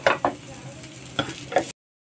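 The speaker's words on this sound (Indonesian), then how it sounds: "kita panaskan lalu kita goreng bawang putih sama bawang merahnya" Garlic and shallots sizzle in hot oil in a pan, with soft crackling and a few stirring scrapes. The sound stops abruptly partway through.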